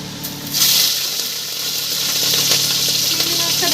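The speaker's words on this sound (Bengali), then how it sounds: "তেলটা গরম হয়ে গেছে, এখানে দিয়ে দেবো 5 ফোড়নের শুকনো লঙ্কাটা" Dried red chili and five-spice seeds hitting hot oil in a home kitchen pan, a loud, close, continuous hiss and sizzle that swells after a moment and keeps steady to the end, with no voice over it.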